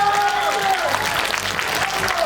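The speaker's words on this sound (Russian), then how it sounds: "Давайте сейчас попробуем поаплодировать." A concert audience at a star-talent show clapping on cue, a continuous loud wash of applause while a held musical tone and a voice carry over it.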